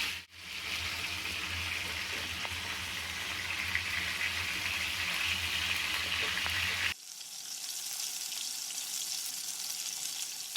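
Chicken pieces for a Bengali wedding-style roast frying in a pan, a steady close sizzle that suddenly drops to a thinner, quieter hiss partway through, with no voices.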